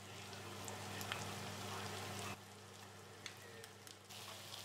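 Courgettes frying in a pan with olive oil and minced garlic give a faint, steady sizzle with a few small pops, and no talk.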